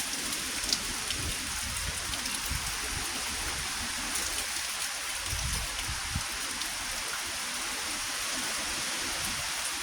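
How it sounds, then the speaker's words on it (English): Steady, dense rainfall from Hurricane Helene pours down continuously, a broad hissing wash with occasional heavier splatters and gusts, no voices. "Got a very, very consistent rain going on."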